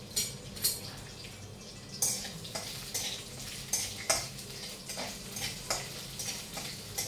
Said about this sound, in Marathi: थोडं तेल तापल्यानंतर त्यामध्ये हिरव्या मिरच्या, लसणाच्या कुड्या आणि कढीपत्ता हे टाकून घ्यायचं.